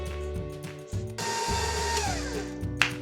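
An electric mixer beating carrot cake batter at moderate speed, a steady whirring motor drone that pauses briefly then resumes, close and alone without speech.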